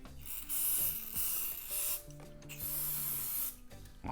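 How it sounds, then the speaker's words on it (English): Water spraying from a hose over rebuilt front shocks of a 1987 Honda XL600R motorcycle, a close, hissing stream that surges and breaks off in several bursts over about four seconds, with a low tonal hum underneath. "so let's hose her down"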